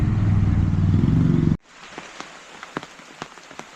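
Rain falls on a road in a Kerala village, heard first under a loud low rumble that cuts off abruptly, leaving soft steady patter with scattered distinct drops, and no voices.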